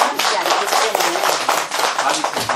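Audience at a meditation center lecture clapping, a dense burst of many hands applauding close and loud for a couple of seconds.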